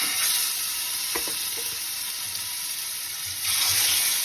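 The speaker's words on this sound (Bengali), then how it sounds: "এভাবে একটা একটা করে মাছ আমি তেলের মধ্যে ছেড়ে দিচ্ছি" Boal fish pieces dropped one by one into hot oil give a steady, loud hissing sizzle with a few sharp crackles early on, swelling louder near the end as more fish goes in; no one speaks.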